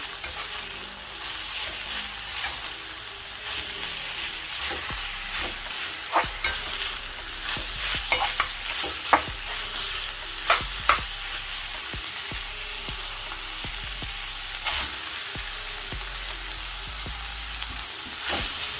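Smoked herring frying in a pan with seasonings, giving a steady bright sizzle throughout, with frequent clinking scrapes of a spoon stirring through it.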